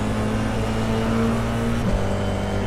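An FIA F4 race car laps Imola in the iRacing sim, slipstreaming another car. A steady, moderately quiet engine drone holds throughout, with a brief pitch shift near the end.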